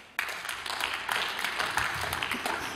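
A stand-up comedy club audience breaks into brisk applause after a brief pause, many hands clapping close and steady for nearly three seconds.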